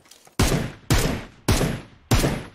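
Gunfire in the mobile battle royale game PUBG Mobile: four sharp, loud bursts of shots in a steady rhythm, each cutting off abruptly, with no talking.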